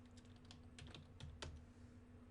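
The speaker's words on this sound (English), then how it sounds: "Keyboard." Keys tapped on a computer keyboard in quick uneven bursts, faint and close over a low electrical hum, with no talk.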